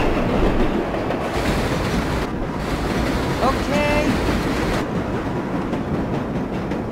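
A subway train in World of Subways 4 rumbles steadily as it overtakes other trains, a loud continuous roar of wheels and track with a brief high squeal midway.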